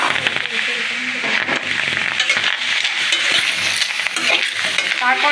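Mango pieces get stirred into a dry pan with dried chilies and mustard for a mango chutney, with steady scraping and a light sizzle, loud and close, while a voice talks over the cooking.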